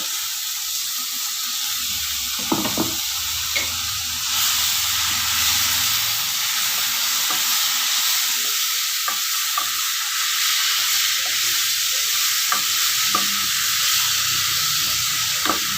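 Tomato juice from two finely ground tomatoes sizzles steadily in a hot pan while ivy gourd fry cooks, with a broad continuous hiss and scattered stirring scrapes and clinks throughout, no voices.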